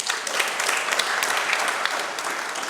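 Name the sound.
applause for the Rwandese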